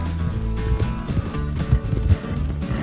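Hooves clip-clop in a quick, uneven rhythm from a horse in the Western video game Red Dead Online, set against steady low music, with no talking.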